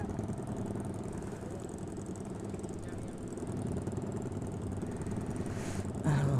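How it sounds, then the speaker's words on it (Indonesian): Motorcycle exhausts rumble and idle steadily in a traffic jam, a low continuous engine drone nearby with revving swells and a sharper burst near the end. "Knalpot orang-orang pada gacor semua"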